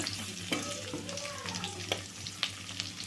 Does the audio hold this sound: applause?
no